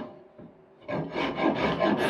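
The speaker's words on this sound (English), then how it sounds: "I'm basically just going to go down this handle with my rasp here" A rasp works down the length of a wooden axe handle in short, scratchy back-and-forth strokes, close and distinct after a brief quiet start.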